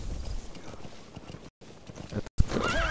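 Horse in Metal Gear Solid V: The Phantom Pain whinnies loudly near the end after a stretch of steady hoof clatter and rumbling game noise, with a brief silent gap just before the call.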